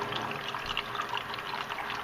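Water runs steadily into a container holding almost a gallon, giving a continuous, even rush of filling with no pauses, close by and fairly quiet.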